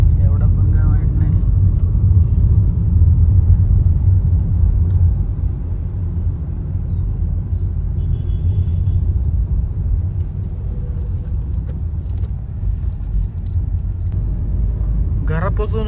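A Hyundai Creta being driven on local roads toward its service showroom produces a loud, steady low engine and road rumble from inside the cabin, continuous throughout, with people talking over it.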